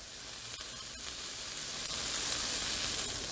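Fat rendering in a hot pan sizzles steadily and close, a dense hiss that swells slightly louder toward the end, with no talking.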